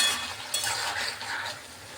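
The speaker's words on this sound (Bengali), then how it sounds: "জিরে বাটাটা দিয়ে ভালোভাবে একটু কষিয়ে নিলেই" Potato and ridge gourd are sautéed with cumin paste in a pan, giving a close, steady sizzle with brief scraping strokes of stirring and no talk.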